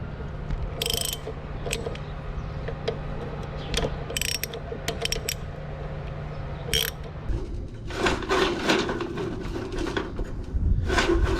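Tightening the auger on a corn machine, a run of close ratcheting clicks and metallic gear rattles with scattered knocks, growing busier and louder toward the end.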